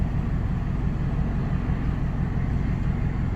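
A 4th-gen Toyota 4Runner V8 with its exhaust cutout bypass open gives off a continuous deep rumble, loud and close, steady throughout without any speech.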